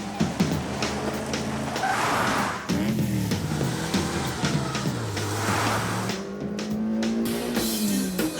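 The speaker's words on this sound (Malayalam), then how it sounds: "ഡോക്ടർ ജഡ്ക, നിങ്ങൾ കാർ ഓടിക്കുകയാണോ അതോ കാളവണ്ടി ഓടിക്കുകയാണോ?" A cartoon car races along in a treasure-hunt chase from the Motu Patlu animated series, its engine droning loudly and continuously with pitch that climbs and drops as it speeds.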